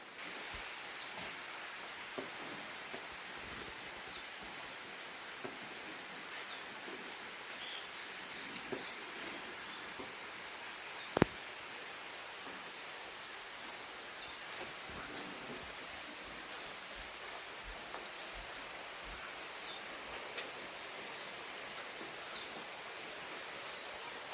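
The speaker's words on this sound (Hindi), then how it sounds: "बाहर कितनी तेज बारिश आ रही है" A steady, even hiss of heavy monsoon rain pours down outside in a hill village, broad and unbroken, with a single faint tap standing out partway through.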